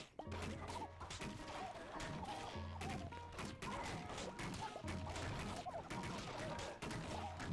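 Turrets in the video game Atomicrops firing at a boss, producing rapid repeated crashing shots and impacts over game music, steady and busy throughout.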